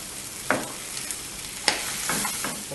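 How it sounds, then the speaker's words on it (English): Onions fry in oil alongside seared lamb, giving a steady close sizzle with a few sharp stirring knocks and scrapes. "We will continue cooking until the onions are cooked and are almost transparent."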